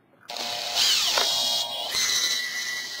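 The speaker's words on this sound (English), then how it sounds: "I'm going to use this drill." An electric drill spins up sharply, its pitch dipping as it bites in, then runs steadily, briefly pausing before revving again.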